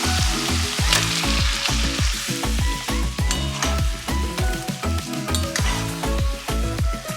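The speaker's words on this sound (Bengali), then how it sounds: "এবার ম্যারিনেটেড চিকেনটা অ্যাড করে দিচ্ছি" Marinated chicken pieces hit a hot pan of fried-down masala, giving a loud, continuous sizzle with dense crackling and repeated clinks and scraping of a utensil throughout.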